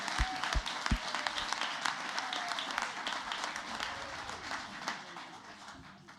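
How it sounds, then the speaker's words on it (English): A school board meeting audience applauds award winners, steady clapping filling the room at a moderate distance, fading slightly toward the end. "let's get one more round of applause for Grand Park Pride winners"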